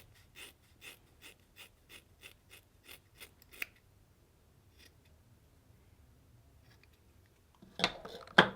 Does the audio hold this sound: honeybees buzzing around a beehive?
no